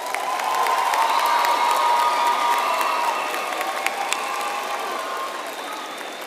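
A university graduation crowd of economics and management graduates bursts into applause with cheers and whoops. The noise is loud at first and then eases off gradually while the clapping carries on.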